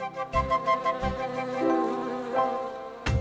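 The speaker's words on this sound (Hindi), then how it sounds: "वो रहा मधुमक्खियों का छत्ता।" Bees buzz around a beehive in a thin, steady drone, broken by a few soft thumps.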